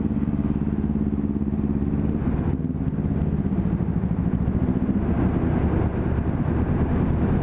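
A Blade 250 motorcycle engine drones close by at a steady rumble with traffic noise around it, a continuous loud hum while riding in a traffic jam.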